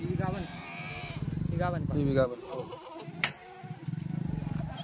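Kathiawari goats and sheep bleat repeatedly in wavering, nasal calls, several overlapping nearby from a newly arrived vehicle load, with people talking underneath and a sharp click partway through.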